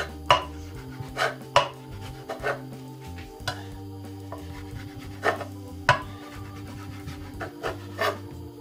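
A knife dices bacon into small pieces on a chopping board, giving sharp, irregular chopping strokes with short pauses between bursts, close and clear over a low background hum.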